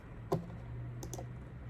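Keys tapped on a computer keyboard while entering a web address, a few sparse clicks: one sharper stroke near the start and a couple of softer taps later, over a steady low hum.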